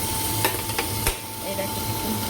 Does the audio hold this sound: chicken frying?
yes